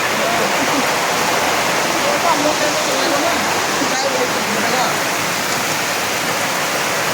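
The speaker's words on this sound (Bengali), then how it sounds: "সাংঘাতিক বৃষ্টি পড়ছে এখানে।" A heavy downpour roars as a dense, unbroken hiss of rain, constant in loudness from start to finish.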